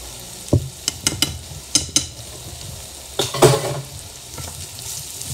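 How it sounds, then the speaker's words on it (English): A utensil stirs and scrapes through food sizzling in a pan with added ketchup, giving several sharp clinks and scrapes over a steady frying hiss at close range. "Stir this up."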